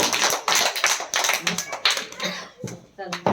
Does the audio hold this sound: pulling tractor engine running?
no